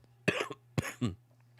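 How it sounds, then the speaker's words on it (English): A man's dry cough comes in two close, harsh bursts, fairly near and moderately loud, with a steady low hum underneath and no talk. "that dry cough is kicking in like a mofo right now"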